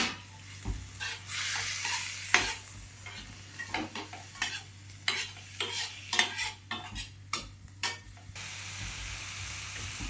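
Onions and tomatoes sizzle in a frying pan while a utensil stirs and scrapes in short, irregular strokes, close and fairly loud, with no talking over the cooking.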